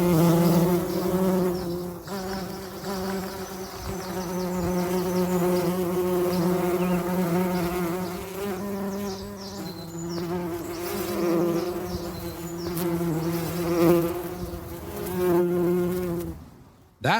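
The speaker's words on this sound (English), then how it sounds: "It was, of course, the familiar buzzing of bees going about their daily habits of sipping" Bees buzz continuously and close by for about seventeen seconds, a dense droning hum that wavers in pitch as the insects move about, with no voices.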